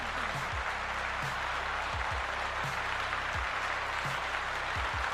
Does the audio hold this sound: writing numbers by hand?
no